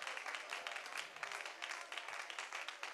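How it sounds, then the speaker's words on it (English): A church congregation claps hands together during a worship service, a steady dense patter of many hands filling the space at moderate, even volume with no break. "just clap your hands."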